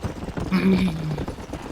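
Horse hooves clip-clopping in the video game Red Dead Redemption, a short run of rhythmic hoofbeats with a brief tonal game sound over it, moderately loud.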